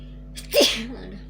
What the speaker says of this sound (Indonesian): Sorry ya, bersin.